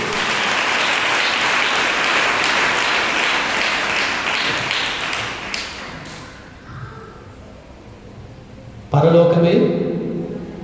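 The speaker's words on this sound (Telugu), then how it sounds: "సంతోషమేనా? గట్టిగా చప్పట్లు కొట్టండి." Congregation at a fasting prayer meeting clapping loudly in dense sustained applause that thins out and fades, then a voice speaks over the hall.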